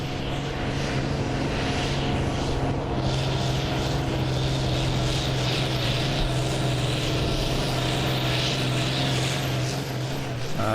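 A pulling tractor's engine at a 2008 Danish tractor pulling championship round in Allingabro drones loud and constant under throttle for the whole stretch, a thick, steady roar with no pauses.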